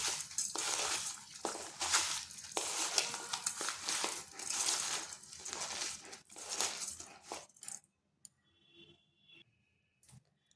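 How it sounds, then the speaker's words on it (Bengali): Sugar is worked by hand into raw green mango pieces for a sweet pickle, giving a steady gritty rustle and crunch with small clinks, then stopping abruptly and leaving near silence. "চিনিটা ভালোভাবে আমের মধ্যে মাখিয়ে নিতে হবে।"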